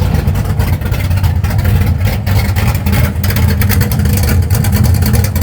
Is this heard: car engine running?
yes